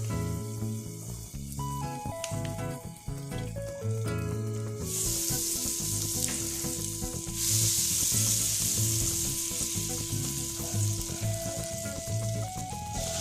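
Butter melts in a pan for chicken Alfredo with a continuous close sizzle that swells louder partway through, over background music.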